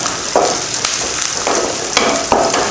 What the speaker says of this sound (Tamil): கடுகு பொரிஞ்சதும் பச்சை மிளகாய், வெங்காயம், கருவேப்பிலை 3 போட்டிருக்கேன். வதக்கிக்கலாம்.